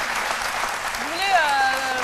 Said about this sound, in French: Merci beaucoup d'applaudir Lynn Jaber.